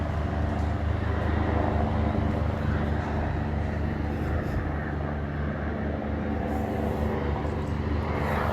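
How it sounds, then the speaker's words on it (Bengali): Search helicopters circle overhead after an accident, making a loud, continuous engine drone that holds steady from start to finish. "ওই যে হেলিকপ্টার আরো আসতেছে"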